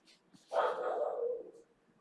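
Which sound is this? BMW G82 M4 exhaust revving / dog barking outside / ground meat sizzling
dog barking outside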